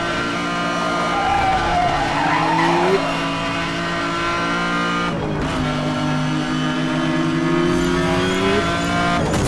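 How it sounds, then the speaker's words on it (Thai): A car in Need for Speed Hot Pursuit Remastered brakes hard and its tires skid with loud squeals, all over a roaring engine. The squeal comes in two bursts, and a brief sharp clatter falls between them. "เบรกเบรกโอเค"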